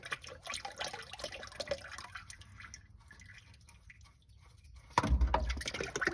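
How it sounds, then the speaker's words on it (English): Engine oil drips and trickles from an unscrewed drain plug into a catch pan during an oil change. A quiet, irregular liquid patter builds to a louder, fuller pour near the end. "unscrew it, should start dripping."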